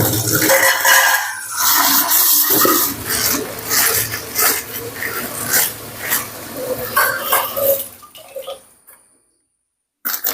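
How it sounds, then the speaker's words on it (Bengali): Water runs and splashes into a cooking pot in a home kitchen as rice preparation begins, a steady broad rush for about eight seconds that tapers off and then falls silent. "ফার্স্ট আগে হাঁড়িটায় জলটা নিয়ে নেব"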